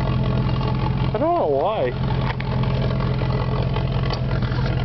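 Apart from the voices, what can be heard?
jeep engine running loudly through the tailpipe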